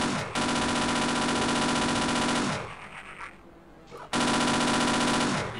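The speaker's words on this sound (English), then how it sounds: "And then pick off the reinforcements with the machine gun." Machine gun fire in the Half-Life video game: loud, dense automatic bursts that rattle continuously, briefly drop away to a softer tail, then resume at full force.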